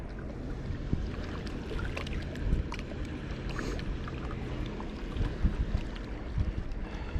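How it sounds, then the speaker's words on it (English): Strong wind roars steadily across a fishing boat on open water, a constant broadband rush with gusty buffeting against the microphone and no talking. "The wind's probably blowing 100 mile an hour, so it seems."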